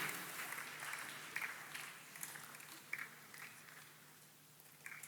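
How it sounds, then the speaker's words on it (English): Audience in a large gathering clapping in answer to a question, the applause soft and somewhat distant, in scattered bursts with a few sharper claps standing out against the room's murmur. "you have responded to that question with a clap"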